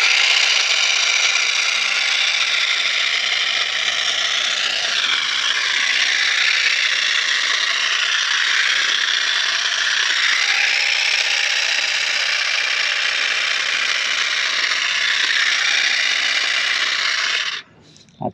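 A HYECHO cordless mini electric multifunction hedge trimmer runs with a steady, loud mechanical buzz for about seventeen seconds, then cuts off abruptly near the end.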